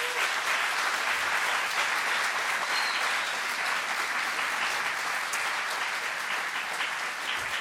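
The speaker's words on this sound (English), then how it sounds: "give a huge round of applause for them again" Sustained applause from a large crowd at a conference's Ignite talks session, steady and loud throughout with no voices standing out.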